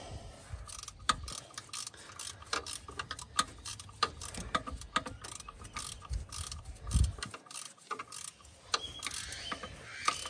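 A hand ratchet tightens bolts on a 1978 Ford truck, clicking in quick bursts of pawl ticks with short pauses between strokes, fairly quiet and close, with faint clanks of metal.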